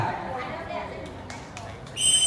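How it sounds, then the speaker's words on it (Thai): A referee's whistle blast starts a Superman running race at an office sports day, sounding sharp and near at the end after a stretch of crowd chatter and voices. "ถ้าพร้อมแล้วคำสัญญาณนกหวีดจากกรรมการ"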